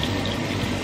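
Tap water runs steadily into a sink while a small child's hands are washed, a brief continuous gush close by with no voices over it.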